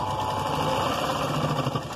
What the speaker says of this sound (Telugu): ఈ ఎడ్జ్కి ఒక కుట్టు ఇలా వేసేసుకుందాం